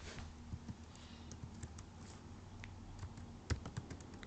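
Steady typing on a computer keyboard, with a continuous patter of light key clicks and a few sharper taps over a low background hum.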